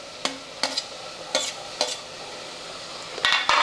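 Sliced tomatoes stirred into a pan with curd for hotel-style rice bath, a series of sharp spoon scrapes and clatters against the pan over a faint sizzle, spaced irregularly with a quick double scrape at the end.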